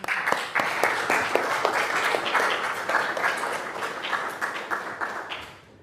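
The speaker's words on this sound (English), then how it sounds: "Join me in welcoming Olga with a warm applause." Warm audience applause welcoming a speaker at the EuroSciPy 2023 scientific Python conference, many hands clapping in a dense, even patter with distinct sharp claps, holding steady for several seconds before tapering off at the end.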